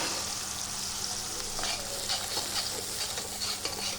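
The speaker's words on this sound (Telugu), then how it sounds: "ఉల్లిపాయ పేస్ట్ వేస్తున్నాను" Onion paste fries in a pan for paneer masala gravy, a steady close hiss with light stirring scrapes and soft bubbling, continuous and fairly quiet without speech.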